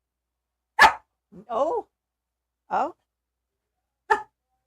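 A dog lets out a few short, sharp barks spaced apart, with a brief human exclamation between them in an otherwise quiet room.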